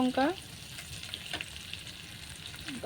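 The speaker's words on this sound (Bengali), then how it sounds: "লঙ্কা দিয়ে দিচ্ছি আদা পেঁয়াজের পেস্টটা ভালো করে ভেজে নিব।" Ginger-onion paste and green chilli fry in oil with a soft, steady sizzle and occasional stirring scrapes. A couple of faint tonal chirps appear at the start and end.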